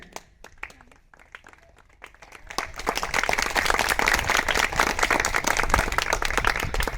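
Applause for a woman BJP MLA at a financial literacy event, starting as scattered claps and swelling after a few seconds into loud, dense, sustained clapping from a large crowd.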